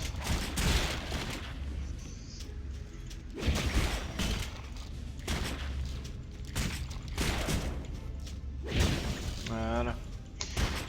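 Gunfire from a character standing still and shooting in the action role-playing game Torchlight 2: repeated bursts of shots at a steady pace, fairly loud, heard alongside game music and effects.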